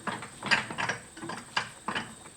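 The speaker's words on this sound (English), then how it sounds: "try to use a pry bar to get the hub away from the rotor" Metal pry bar working a front wheel hub off a brake rotor held in a vise on a Land Cruiser E70, giving a series of close scraping, clicking knocks at an uneven rhythm with no talking.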